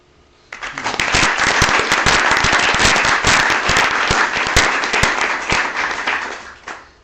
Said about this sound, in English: we should all give ourselves a collective round of applause